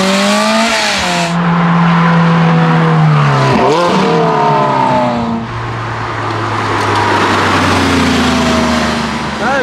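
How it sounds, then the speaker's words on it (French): A race car engine at a motorsport day roars loud and close, its pitch sweeping up and down through gear changes with a sharp dip mid-run, then settling into a steady high drone. "il est venu avec sa voiture de course"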